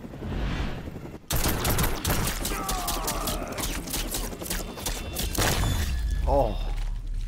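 Air support strike called in by Sonya Blade in the Mortal Kombat 11 fighting game: a loud barrage of gunfire and impacts runs steadily for several seconds, ending in a short whooshing rise, with voices talking over it.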